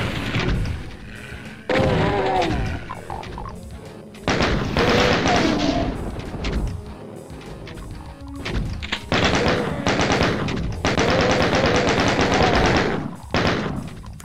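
In a Doom-style shooter, a chaingunner enemy fires loud, rapid machine-gun bursts, several long rattling volleys broken by short pauses, with booms and thuds mixed in.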